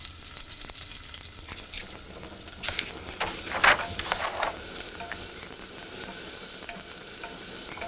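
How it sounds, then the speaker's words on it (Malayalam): Small chopped onions (shallots) sizzle in a pan while a spoon stirs them now and then, a steady close frying hiss with occasional scraping, cooked for mango pachadi. "ഇനി ഈ സെയിം പാനിലോട്ട് നമ്മൾ കട്ട് ചെയ്ത് വെച്ചിരിക്കുന്ന ചെറിയ ഉള്ളിയിട്ട് വഴറ്റുക"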